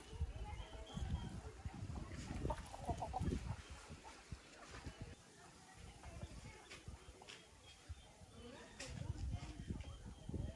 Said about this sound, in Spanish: Mis gallinas,